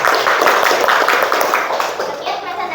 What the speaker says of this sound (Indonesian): beri tepuk tangan buat kelompok 4